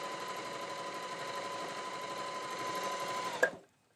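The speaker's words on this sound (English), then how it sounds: "Sew through the 8-ply of denim with no trouble, to the cotton, to the stretching material." A Janome HD5000 heavy duty sewing machine runs steadily at speed through layered fabric such as denim, a continuous close mechanical whir that stops abruptly near the end.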